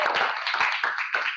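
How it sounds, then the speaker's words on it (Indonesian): Students in a classroom clap for a classmate, giving a short, close burst of a few quick claps with a slightly uneven rhythm. "kita kasih tepuk tangan dulu buat Agnes."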